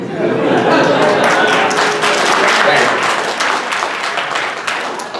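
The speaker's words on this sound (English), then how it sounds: "your applause is certainly much appreciated" A stand-up comedy audience applauds after a joke, with dense sustained clapping that fades slightly toward the end and some chatter and laughter mixed in.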